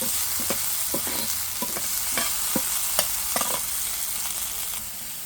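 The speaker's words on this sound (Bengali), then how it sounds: "এখন তেলের ভিতরে হচ্ছে আমি এই টমেটোগুলো দিয়ে দেব" Tomatoes fry in hot oil with a steady sizzle, and a spoon or spatula scrapes and stirs the pan in short, irregular strokes. No one speaks.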